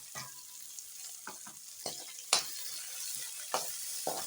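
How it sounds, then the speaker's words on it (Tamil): Onions sizzle and crackle lightly in a pan for a Thakkali Kadaiyal tomato dish, with scattered stirring scrapes and a few sharper clinks over a steady low fry, no talk. "வெங்காயம் போட்டு லைட்டாக ஃப்ரை பண்ணுங்க"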